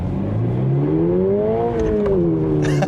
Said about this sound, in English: listen to the sound of this engine. It's creating kind of a fake noise through the speaker